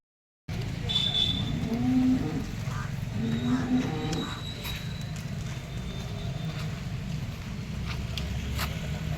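Cattle at the Seenapuram cattle market low and murmuring throughout, with a couple of brief lowing calls over steady outdoor crowd and market noise.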